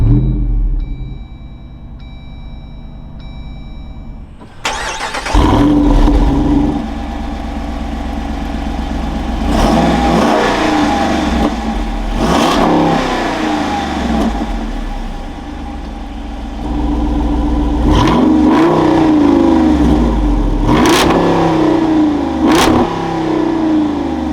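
A 2024 Jeep Wrangler 392 Rubicon Final Edition with its big V8 starts from inside the cabin with a sharp crank and catch, then settles into a loud, deep idle. Several hard revs rise and fall above it.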